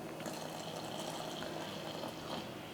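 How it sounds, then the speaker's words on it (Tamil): Boiled milk is poured into cooked sago for chana dal payasam, a steady close liquid pour and gurgle that runs without a break for a few seconds. "இந்த பால் வந்து நான் 1 டம்ளர் சேர்த்துக்கிறேன்."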